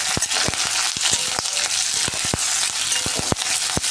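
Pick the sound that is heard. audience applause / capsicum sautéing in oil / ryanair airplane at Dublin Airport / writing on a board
capsicum sautéing in oil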